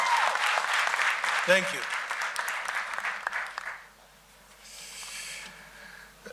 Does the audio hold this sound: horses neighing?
no